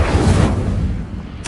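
Incendio fire spell cast in Hogwarts Legacy, a brief loud burst of roaring flame and rumble that fades out, ending with a short swish.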